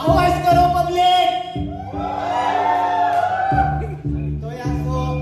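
An audience at an Indian student association cultural evening cheers and whoops loudly before a rap song, with crowd noise swelling and falling around a prominent voice shouting over it.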